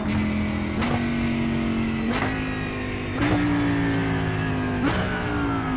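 Simulated race car engine in iRacing, revving hard and climbing through gears with sharp shift breaks roughly every second, loud and steady with no talk.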